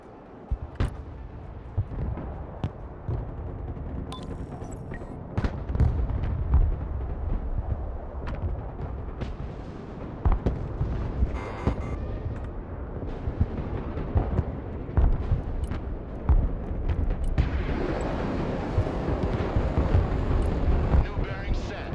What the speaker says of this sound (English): there's a lot of artillery there.